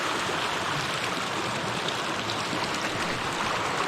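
Water of a nature-preserve stream rushes under a bridge, a steady, dense, loud wash of broadband flow with no variation and no talking.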